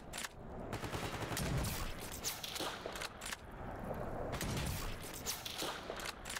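Gunfire in the video game S.T.A.L.K.E.R. comes as a few scattered loud shots and short bursts against a faint, busy background, with no talk.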